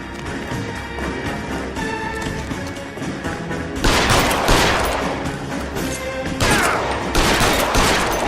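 Gunfire in the video game L.A. Noire, a rattle of repeated shots in a sustained fusillade over a dense background, with two louder bursts of rapid fire later on.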